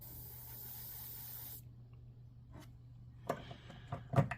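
An airbrush running on low compressor air sprays paint onto parts of a 1/48 MegaScale Zaku II Gundam model, giving a close, soft hiss for a second and a half, then falling quiet apart from a few short clicks and taps.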